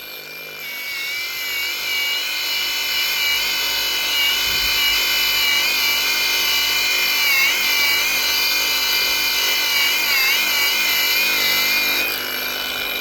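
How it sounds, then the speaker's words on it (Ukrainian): An angle grinder whines loudly and steadily, its pitch wavering as it bites into a meteorite, then cuts off near the end. "болгарку ногою буду тримати"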